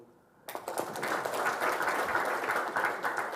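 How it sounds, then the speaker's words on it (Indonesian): A crowd bursts into sustained applause for Gus Imam Pituduh at a religious gathering, dense clapping starting abruptly and holding steady throughout. "tepuk tangan untuk Gus Imam Pituduh"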